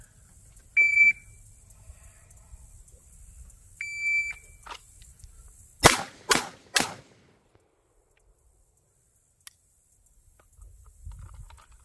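Two short electronic timer beeps sound at shooting practice, each followed moments later by a quick string of three loud, close gunshots, then quiet.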